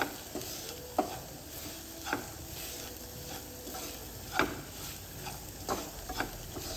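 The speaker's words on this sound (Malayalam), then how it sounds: "ഉള്ളിയും പൊടികളെല്ലാം കൂട്ടി ഒന്ന് നല്ലോണം മിക്സ് ചെയ്യാം" Sliced onions cooking with coriander and chili powders in a pan, stirred in a few separate scraping strokes over a soft, constant sizzle, close by and with no talking.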